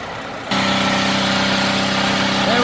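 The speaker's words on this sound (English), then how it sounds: "Try to put something on the gas pedal to get it to rev up, rev on itself." A 2012 Ford F-150 with the 3.5 EcoBoost engine and a misfire problem runs steadily at raised revs, a loud, even engine drone that begins abruptly after a quieter moment and holds with no talking.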